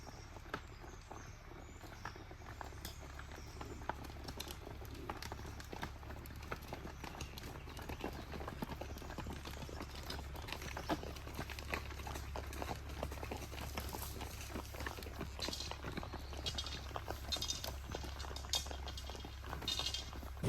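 Hooves of cows herded along a country road on the Camino de Santiago make a soft, irregular patter of steps, faint and continuous, with no voices.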